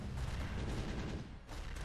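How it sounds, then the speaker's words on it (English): Bombs blowing up in the side-scrolling brawler Castle Crashers, a dense, continuous rumble of overlapping blasts with boomy low end and crackling debris, loud and steady for nearly two seconds. "Whoa! That's a lot of bombs!"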